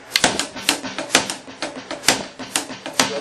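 Drum strokes alternate between the hands, with one hand staying on the snare, in a quick, even pattern of crisp, close hits with periodic accents and no voices.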